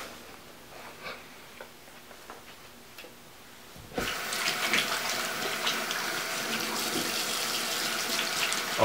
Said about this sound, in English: Always remember to wash your hands.